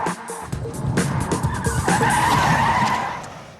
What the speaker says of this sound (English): a 180-degree skidding forward turn